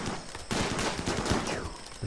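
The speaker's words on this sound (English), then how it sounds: "Zug is still shooting. Hasia is still shooting." Rapid bursts of gunfire from a RimWorld battle between colonists and pirates, dense overlapping volleys of shots rattling on continuously, loud and without talk.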